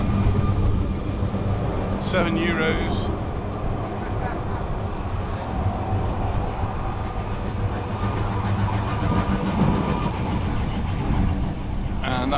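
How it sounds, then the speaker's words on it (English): Tram in Puerto de Soller, Mallorca rumbles past close by with a steady low rolling drone and brief squeals, under a voice and ambient harbour bustle. "and here's the tram."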